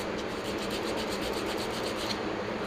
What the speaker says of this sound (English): I can yap a little bit while I sand